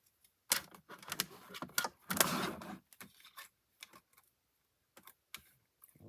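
Die-cutting machine cranked by hand to cut card stock for a botanical-textures fun-fold card, giving irregular bursts of clicking and grinding rolls with short pauses, close and fairly loud, then sparse light clicks.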